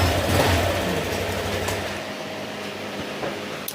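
A repaired motorcycle engine runs after a crushed piston was replaced, first idling with a low throbbing rumble close by, then settling to a lighter, steady running note.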